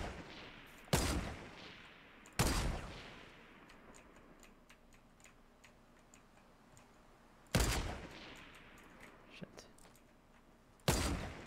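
PUBG gunfire rings out in four loud, sharp single shots spread across the span, with quieter ticking and clicking in between.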